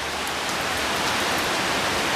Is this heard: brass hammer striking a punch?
no